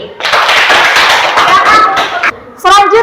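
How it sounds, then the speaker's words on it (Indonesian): Classroom students clapping together after a group presentation, a dense burst of applause lasting over two seconds, followed by a voice speaking close by. "Beri tepuk tangan sekali lagi."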